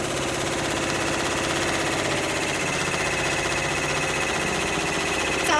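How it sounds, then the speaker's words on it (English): An embroidery machine satin-stitches a freestanding lace pumpkin, giving off a fast, steady mechanical whir and rapid needle chatter that runs without a break at an even, fairly loud level. "We're just going to be satin stitching."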